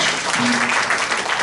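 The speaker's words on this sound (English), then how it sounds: "So I'd like to make a nice round of applause to those 2 ladies" Brief applause from a small board meeting audience, a short steady patter of clapping with a faint tone under it.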